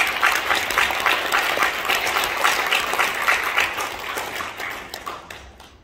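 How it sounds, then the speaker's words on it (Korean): Attendees at a Korean forum breakfast meeting give a dense, sustained round of applause that stays loud for several seconds, then tapers off toward the end. "큰 박수 부탁드립니다."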